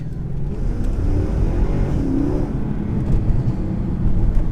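A 2014 Mercedes C63 6.2L V8 engine rumbles steadily with a deep, throaty low-end growl, holding a constant idle-to-cruise drone with no voices, heard from inside the car.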